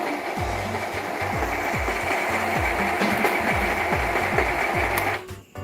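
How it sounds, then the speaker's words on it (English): An Epson L121 inkjet printer charging ink from its tank to the print head, giving a loud, steady mechanical whir with a repeating rhythmic knock about every half second that stops abruptly near the end. "The printer is now charging ink from the tank"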